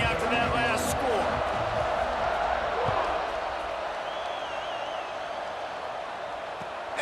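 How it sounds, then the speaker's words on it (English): A college football stadium crowd murmurs and buzzes steadily after a touchdown, a broad constant roar with scattered cheers and a whistle, while a commentator talks over it. "this crowd is buzzing after that last score"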